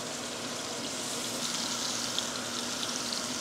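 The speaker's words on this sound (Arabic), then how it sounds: "على نفس الزيت اللي اوريدي فيه له ثوم وبصل وحركات نحط الدجاج" Chicken frying in oil already seasoned with garlic and onion, giving a steady, continuous sizzle and crackle at moderate level with no talking.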